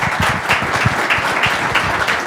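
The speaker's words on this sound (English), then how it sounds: "So please, a round of applause for Ambassador." Close, lively applause for an ambassador at a security forum, individual claps distinct within a brisk burst from a modest audience.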